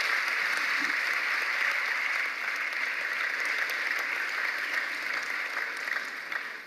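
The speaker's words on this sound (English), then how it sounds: "let's give all the members of the Commission and the staff a round of applause and thank them" Crowd applause at an election results announcement, thanking the commission members and staff, a continuous round of clapping from a large audience that stays strong and then eases slightly toward the end.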